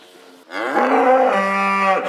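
A mother cow in a farm setting moos while defending her calf, one long loud bellow that rises and holds steadily, close by and alone against quiet surroundings.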